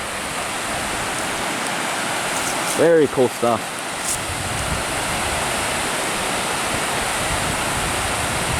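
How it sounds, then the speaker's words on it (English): A small woodland waterfall in Dolly Sods, West Virginia, rushes steadily as broad, constant splashing noise, while a voice speaks briefly over it. "Nice little waterfall right here."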